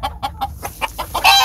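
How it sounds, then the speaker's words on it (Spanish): A fighting rooster clucks in a quick series of short, evenly spaced notes close by, ending in a louder, brighter squawk. "Miren, señores, los gallos que van a presentar"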